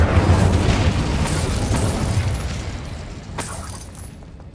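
A fire spell bursts in Hogwarts Legacy with a loud, booming roar and crackle that stays strong through most of the clip, then slowly fades toward the end.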